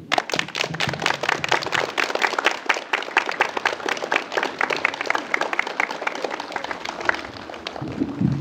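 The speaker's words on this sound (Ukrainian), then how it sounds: "Ці оплески сьогодні лунають на вашу честь." Steady, dense applause from a crowd honoring teachers at a first-bell school ceremony at a Ukrainian gymnasium, continuous and fairly close for the full stretch, easing slightly near the end.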